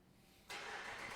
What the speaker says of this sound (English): just doing a remote start